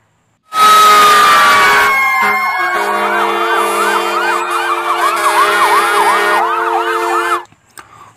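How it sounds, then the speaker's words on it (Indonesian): A toy fire truck siren wails loudly and steadily, its electronic tone rising and falling in a fast repeating pattern for several seconds before cutting off. "Wow, ini ada truk pemadam kebakaran"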